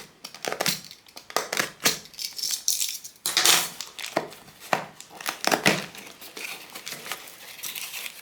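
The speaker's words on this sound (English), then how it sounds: "Let's open the package and see if the camera is still in one piece." Cardboard, plastic bags and packing material from a camera's overseas shipping box crinkle, tear and rustle close by in a dense, busy run of crunching and scraping handling sounds, with no talk.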